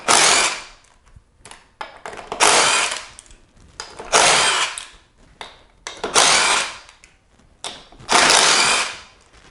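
A 13 mm socket wrench turning out bolts from a Quantum Edge 3 Stretto fishing reel, with five loud bursts of ratcheting clicks separated by short pauses and small handling noises, up close.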